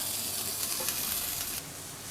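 New York strip steak searing in olive oil after sous vide cooking, a steady, fairly quiet sizzle and hiss that drops slightly in level near the end.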